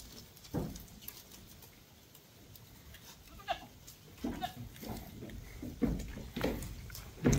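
A small herd of farm goats bleats several times in scattered, wavering calls at close to moderate distance, with rustling and shuffling movement in between.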